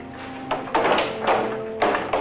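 Heavy auditorium doors being shut, several dull thuds and knocks in quick succession, fairly close and fairly loud over a low room background.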